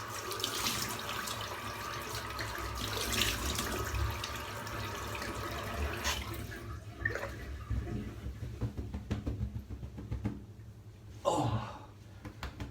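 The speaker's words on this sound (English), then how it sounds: "Just going to rinse off now and then finish off." Tap water runs steadily into a sink as someone rinses off after a head shave, a loud continuous splashing hiss that breaks into choppier splashes and drips toward the end.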